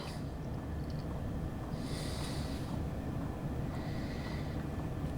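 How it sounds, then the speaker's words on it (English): A Chinese diesel heater, modified to run quieter, gives off a continuous low rumbling drone with a faint hiss, steady throughout with no breaks or talking. "We've got a quiet library with a diesel heater on."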